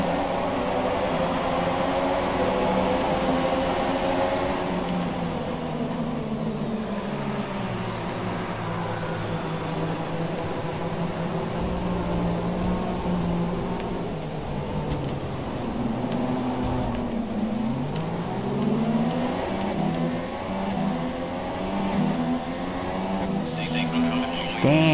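Formula 1 race cars in the F1 2017 video game at the Malaysian Grand Prix whine continuously, many engines droning together in layered, shifting tones throughout a racing start.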